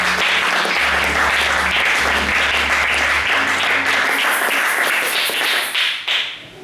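A church congregation breaks into loud, continuous applause and cheering, close and dense, with a steady low hum underneath that cuts out midway before the clapping thins at the end.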